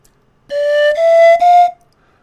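A panflute plays a clear, pure tone, three short connected notes lasting just over a second, close and alone against silence.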